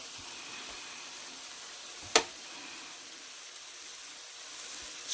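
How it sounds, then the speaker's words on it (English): Meatballs sizzle on a noisy grill, a steady, fairly faint broadband hiss with one sharp pop about midway. "This grill makes so much noise, it's ridiculous."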